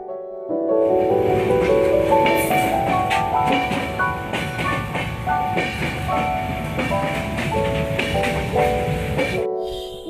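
Train rolling through Daulatpur railway station, heard from the open carriage door as a loud, continuous rumble with rhythmic clickety-clack of wheels, ringing metallic tones and rattling, ending abruptly.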